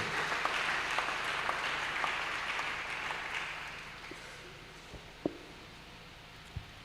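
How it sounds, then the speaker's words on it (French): A church congregation applauding to encourage a reader at a father-and-son gathering, a moderate clapping crowd that gradually fades out, heard from a distance with a few isolated knocks afterward. "On acclame le Seigneur pour encourager le lecteur"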